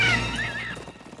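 Cartoon horses neigh loudly in a whinnying call that rises and falls, then fades out after under a second, heard alone with no talk over it.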